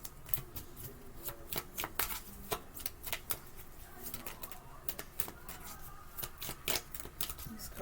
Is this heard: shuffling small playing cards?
yes